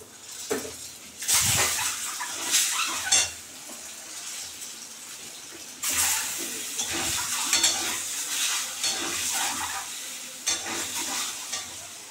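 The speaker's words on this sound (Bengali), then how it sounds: "এখন ডিমগুলো ভেজে নেব।" Eggs fry in hot oil seasoned with salt and turmeric, sizzling and crackling with bursts of stirring and clinks of a utensil against the pan.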